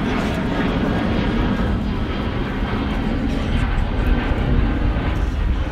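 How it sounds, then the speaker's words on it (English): A fixed-wing airplane passes overhead during an outdoor free speech rally in Washington DC, its loud engine roar steady and continuous for several seconds. "I'm gonna wait for this plane to pass."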